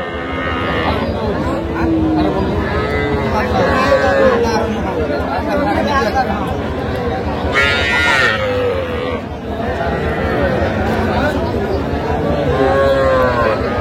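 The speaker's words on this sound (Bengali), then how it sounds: "আজকে দেখে শুনে ছোট ছোট ষাট এবং বকনা দেখতেছি" Cattle moo repeatedly at a busy livestock market in Tangail, where small bulls and heifer calves are being sold; several drawn-out lowing calls rise over steady crowd chatter and close conversation.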